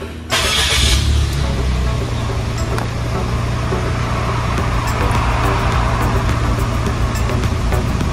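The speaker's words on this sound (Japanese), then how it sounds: "エンジンかけます。" A Suzuki Lapin car engine cranks and starts with a sudden loud catch, then settles into a steady, close idle hum that continues alone.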